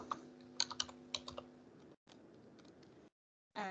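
Text typed on a computer keyboard while editing a gallery or portfolio site builder, a quick run of close, crisp key clicks that pauses briefly, then resumes before falling silent.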